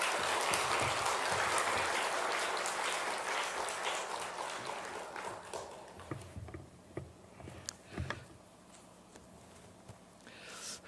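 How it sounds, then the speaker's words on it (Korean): A church congregation at a Korean Sunday worship service applauds, the dense clapping loud at first, then thinning and fading into scattered claps over several seconds. "우리 장로님 나오실 때 박수 한번 보내주겠습니다."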